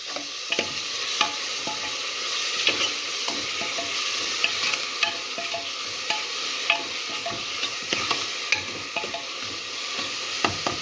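Tomatoes go into a green beef curry and are stirred through a hot, sizzling pan: a steady, close frying hiss with scattered light stirring scrapes and taps throughout, and no voices.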